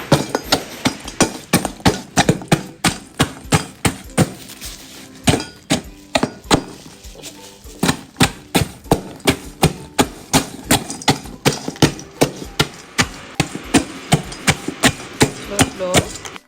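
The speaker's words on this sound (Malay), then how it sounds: "So kita akan tumbuk this biscuit." Lotus Biscoff biscuits pounded to crumbs for a baked cheesecake crust, a steady run of sharp, close thuds repeating at a quick, even rhythm for the whole stretch, with no talking.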